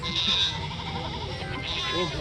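A goat bleats close by in a livestock market setting, a few short wavering cries heard under and between people talking.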